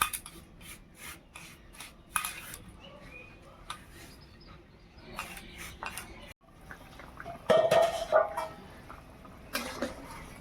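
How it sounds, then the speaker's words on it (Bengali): Roasted fenugreek seeds being ground in a kitchen, giving repeated dry raspy grinding and rubbing bursts with clinks. The sound is fairly quiet, close by and without any talk. "ততক্ষণে ভেজে রাখা মেথিটা গুঁড়ো করে নেব"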